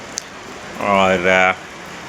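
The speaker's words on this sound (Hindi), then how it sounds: "बारिश लगी है।" Steady rain falls outside a hotel in Sharda in Kashmir's Upper Neelum valley, a soft continuous hiss that runs under a single short spoken word.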